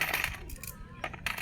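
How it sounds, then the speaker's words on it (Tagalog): Saved coins drop and clink in a brief metallic jingle, close up, with short bursts of rattling against light background noise. "Makaipon ng ganito, karami ng barya."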